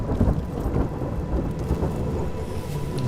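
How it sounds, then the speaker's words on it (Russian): Deep rolling thunder rumbles continuously with rain in the video game Hellblade: Senua's Sacrifice, loud and close with no voices. "Гром."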